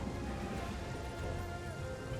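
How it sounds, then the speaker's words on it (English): Rain falls steadily in Total War: Three Kingdoms, a soft, even wash of drops on surfaces that stays faint and continuous. "Everyone's getting moist in the rain."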